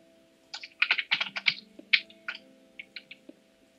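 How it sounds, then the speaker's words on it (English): Rapid bursts of keyboard mashing during a Minecraft session, a flurry of clustered clicky keystrokes in quick irregular runs, then sparser single taps, close and fairly loud over a faint steady hum. "Yeah, I sort of mashed the keyboard there."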